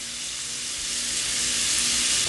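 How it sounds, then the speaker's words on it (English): Onions, sweet pepper and celery hitting hot pork fat and salt in a pot for Bahamian crab and rice, a loud, dense sizzle that swells steadily, close up and without voices. "Now we're going to add onions, sweet pepper, celery"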